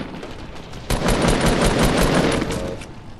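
Rapid hand cannon gunfire in a multiplayer video game, a dense burst of loud repeated shots that sets in abruptly and rattles on for a couple of seconds before easing off.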